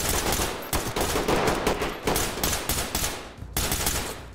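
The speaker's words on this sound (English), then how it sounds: "Oh, I'm getting shot." Sustained automatic gunfire in a tactical shooter game, Ready Or Not, set at a gas station, with loud rapid bursts of shots striking close around the player for several seconds and brief pauses between volleys.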